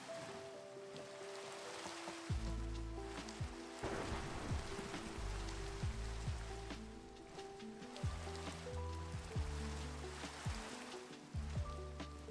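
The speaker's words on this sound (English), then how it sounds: "I think Minecraft and Skyrim have some of my best video game weather. Kind of off topic, but just like while it's raining, I wanted to mention." Steady rain in Minecraft pours through the whole stretch as a dense, even hiss, with low blocky game sounds and short tonal effects cropping up repeatedly beneath it and no talking.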